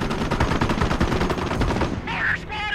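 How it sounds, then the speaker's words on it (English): Rapid gunfire crackles in a Company of Heroes battle, dense bursts running steadily for about two seconds before fading as brief voice-like tones take over near the end. "Mortar squad is under fire!"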